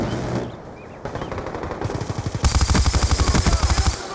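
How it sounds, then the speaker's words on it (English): In Call of Duty: Black Ops 2, the Death Machine minigun spins up, then fires rapid sustained bursts. The thudding volley grows louder and denser toward the end, with brief game sounds before it. "Death machine spinning up."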